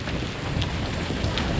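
Rain falling near Menjangan Island, Bali, a steady hiss of drops mixed with wind buffeting the microphone, continuous and fairly close with no voices.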